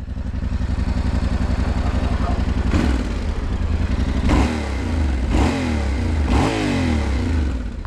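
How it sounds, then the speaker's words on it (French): A Yamaha Ténéré 700 World Raid motorcycle idles with a loud rumble, then its small exhaust roars through four quick revs, each rising and falling back to the idle. "Je vous ai pas fait écouter le petit échappement."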